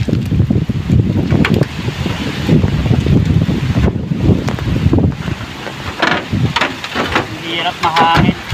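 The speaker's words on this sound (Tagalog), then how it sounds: "Mahangin." Strong wind gusts blowing outdoors at a roadside right of way being cleared, a continuous rough rush of microphone buffeting that rises and falls, with people talking over it throughout.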